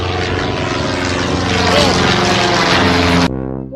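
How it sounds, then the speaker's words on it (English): A propeller airplane flies past loudly in a steady, strong engine drone that cuts off abruptly near the end, with a brief tonal sound following. "Yes, this is airplane."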